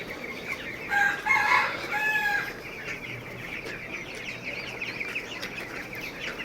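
Seventeen-day-old chicks with a cold and rattling, wheezy breathing. A few close, high peeping chirps come early, over a continuous soft raspy background, with no voices.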